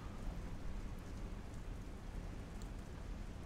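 Rain pours steadily in the submarine game Silent Hunter 3 in foggy, dark weather, a dense continuous hiss and patter with a low rumbling undertone, unbroken throughout.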